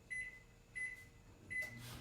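Microwave oven heating white candy melts, a low steady hum with three short regular high beeps close by, each followed by faint clicks.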